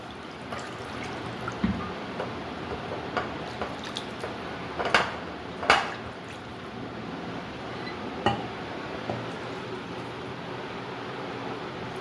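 Water rinsed from a bowl is poured into a pot of chicken and potato curry, giving a soft, steady wash of pouring and trickling with a few splashy drips and clinks, close by and fairly quiet.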